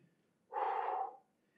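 A single heavy exhale during a triceps arm exercise, a breathy rush lasting under a second, close and fairly loud against near silence.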